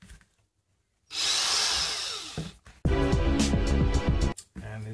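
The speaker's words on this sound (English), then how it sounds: "We're just going to drill out these six, six holes here" A power drill drills holes in a 3D-printed plastic battery pack, whining in two bursts, the first a high-pitched grinding spin, the second a louder, lower buzzing run, separated by brief pauses.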